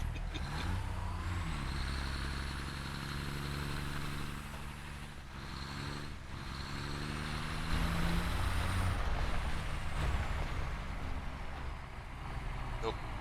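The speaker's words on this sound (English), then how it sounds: "I found my truck." A truck in the video game Satisfactory rumbles along with a steady engine drone and gear-shift tones, and a brief hiss sounds mid-drive while players talk over it.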